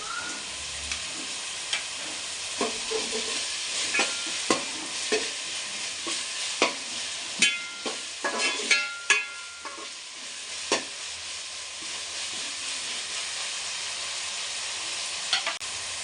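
Ginger garlic paste frying in hot oil for vegetable fried rice, a steady sizzle broken by repeated sharp scrapes and taps of a spoon stirring in the pan, close up, with no talk.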